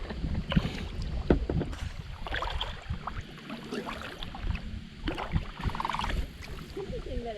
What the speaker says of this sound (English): we are paddling upstream